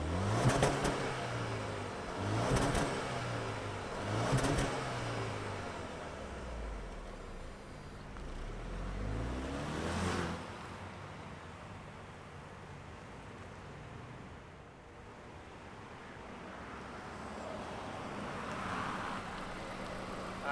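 A 2024 Jaguar XF P300 all-wheel-drive sedan with a 300-horsepower engine starts, then revs a few times and settles into a steady, moderately loud idle close by.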